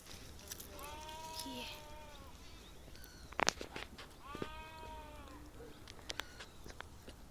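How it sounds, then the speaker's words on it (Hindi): On a rainy Himachal hillside, sheep and goats bleat in two distinct wavering calls a few seconds apart, close by, over a hiss of background noise with a sharp click between them. "वो है गाइस भेड़ बकरी। ये बकरी है, पीछे से एक और भेड़ आई।"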